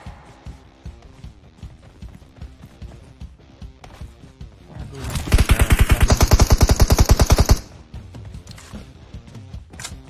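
A loud burst of rapid automatic gunfire lasting a couple of seconds, dense and sharp, standing out from quieter clattering and rhythmic thumps before and after.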